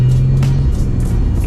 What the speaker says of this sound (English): Let me do like a quick second gear pull for you guys.